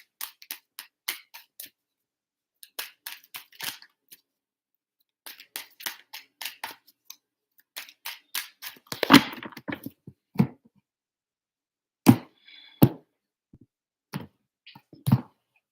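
Tarot cards are shuffled in bursts of sharp riffling flicks and snaps, close and dry, separated by silent pauses and ending with a few isolated taps.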